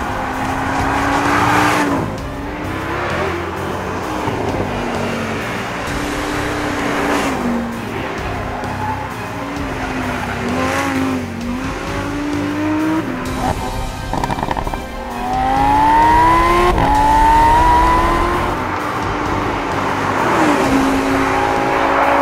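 A loud Lamborghini Huracan engine roars and revs up and down repeatedly as it drives hard on a test track, with pops and crackles between gear changes.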